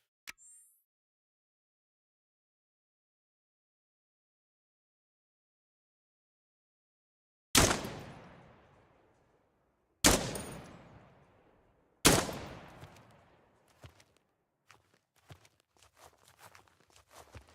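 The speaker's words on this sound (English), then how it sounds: "Let's get the rifle out." Rifle shots in the retro tactical shooter Dagger Directive: three sharp, loud reports spaced a few seconds apart, each ringing out into a decaying tail, followed by small scattered clicks and thuds.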